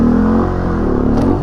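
A car engine drones and revs at low pitch in a stunt lot during foot brake practice, loud and close, with a steady rumble that shifts slightly in pitch.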